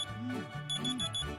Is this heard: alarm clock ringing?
yes